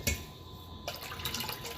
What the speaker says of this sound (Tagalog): maglalagay tayo ng suka dito sa tubig